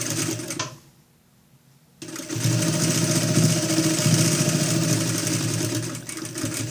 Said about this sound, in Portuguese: Faz a costura bem em cima da dobrinha